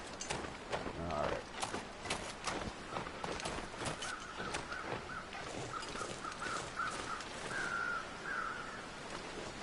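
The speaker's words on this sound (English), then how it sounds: "Or maybe it was just those crows." Crows caw in the survival video game The Long Dark, on its Bleak Inlet map. A string of harsh caws rises over a steady bed of wind and crunching footstep noise.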